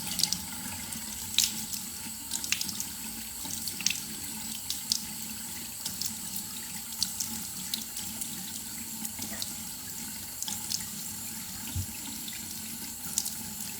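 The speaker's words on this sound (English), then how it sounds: "And then I will just wash this off my face." Tap water runs steadily into a sink as a face is rinsed, a continuous close splashing hiss with small splashes from hands cupping the stream.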